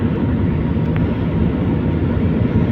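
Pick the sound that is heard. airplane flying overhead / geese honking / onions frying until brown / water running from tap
airplane flying overhead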